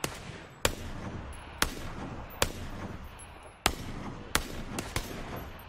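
Gunshots in a PUBG-style battle royale video game on Xbox One X: seven sharp single reports spaced about a second apart, each followed by a short echoing decay, fairly close and crisp.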